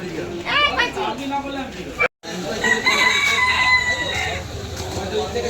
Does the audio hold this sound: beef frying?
no